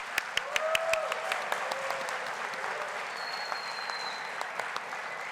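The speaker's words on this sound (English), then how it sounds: "Please stand so that we can give you one more round of applause in recognition of your accomplishments." Applause from a high school ceremony audience honoring students for the Seal of Biliteracy, a fairly soft, steady crowd clapping with a few sharp nearby claps and brief whistle-like tones over it.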